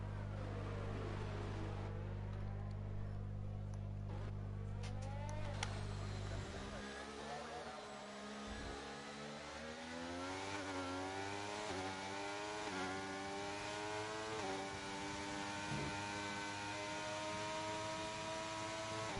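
Race cars scream down the long Baku straight in the F7 Racing video game. Several high-pitched engines whine and climb through the gears, running close together and loud for a long stretch, with a commentator talking over them.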